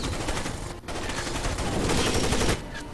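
Gunfire, including a sniper rifle, in a Rainbow Six Vegas 2 firefight: a loud, sustained barrage of close shots with only a brief dip partway through.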